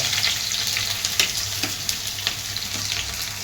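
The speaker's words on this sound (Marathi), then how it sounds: "कांदा असा चांगला तेलावर परतून घ्यायचा" Onions frying in oil for chicken biryani give a steady, close sizzle with occasional scraping stirs and small pops, no voices present.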